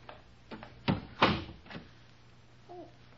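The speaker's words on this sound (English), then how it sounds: "I'll close the door after me." A door closes in an old radio mystery drama, heard as a few soft knocks and clunks followed by a heavier thump. The sounds are fairly close, with a quiet pause afterward.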